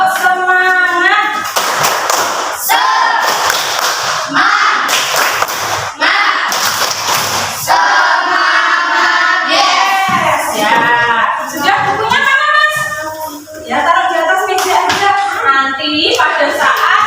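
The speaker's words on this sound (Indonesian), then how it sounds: "Yuk, tepuk semangat." A fourth-grade class in Indonesia performs a rhythmic group spirit clap, sharp patterned bursts of clapping alternating with brief pauses and chanted voices, loud and close.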